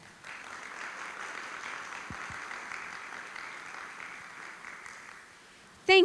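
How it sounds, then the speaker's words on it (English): An audience at a TEDx event gives dancers a sustained round of clapping, a dense, even wash of applause lasting several seconds before ending with a short, sharp noise. "Let's give our dancers one last round of applause."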